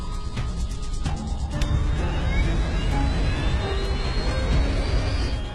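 An airliner's left jet engine, reigniting 5,000 feet above the ground, roars steadily with a rising whine layered on top, loud and sustained across the whole stretch.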